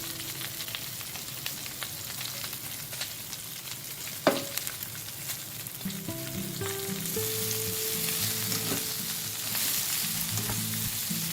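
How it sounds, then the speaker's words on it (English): Okra with curry leaves and other ingredients sizzling in a pan, a continuous close fry with a sharp clack of a utensil partway through and stirring scrapes after. "The okra with the rest of the ingredients are going into the pan now."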